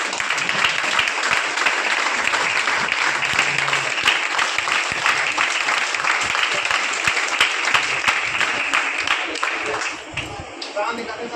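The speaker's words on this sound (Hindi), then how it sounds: "नए वाले ही केवल ताली बजा रहे हैं" An audience at a leadership training seminar claps continuously, a dense, loud patter of many hands that eases off slightly near the end.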